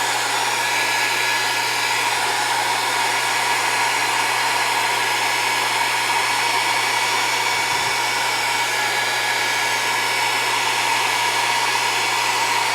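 Hair dryer blowing steadily on a mixed media painting, a loud continuous whirring hum held unbroken throughout with no talk.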